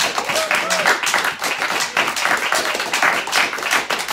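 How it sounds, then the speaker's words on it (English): A church congregation claps hands together during a Sunday morning worship service, a dense, steady patter of many hands that runs throughout, with voices mixed in. "I think we ought to give the Lord a hand clap this morning."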